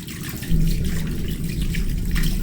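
Tap water running in a bathroom, a steady continuous rush and splash that holds at an even level throughout, close and fairly loud with no talking.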